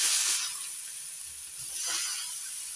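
Grated papaya dropped into hot oil with black cumin, a soft steady sizzling hiss that is strongest at the start and swells again briefly, close and fairly quiet.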